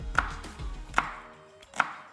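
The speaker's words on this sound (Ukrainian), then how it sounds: "Отак от нарізаємо цибульку дрібно." A knife finely chops onion for an Ethiopian flatbread filling, three sharp separate strikes on a board about 0.8 seconds apart, close and fairly quiet, with no talking.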